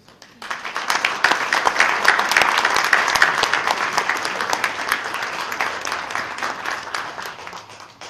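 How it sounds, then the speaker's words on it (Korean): Sustained applause from the audience at a Christian New Year prayer breakfast in a hotel hall in Suwon, welcoming the Gyeonggi governor to the stage. Dense, even clapping swells quickly and holds steady for about eight seconds, with no talk over it. "우리 이재명 지사님 모실 때 큰 박수로 함께 모셔주시면 감사합니다."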